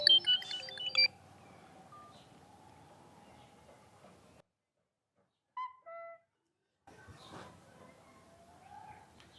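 A mobile phone ringtone as a friend calls back, a brief electronic melody that cuts off, then a few short tones after a silence, with faint talk around it.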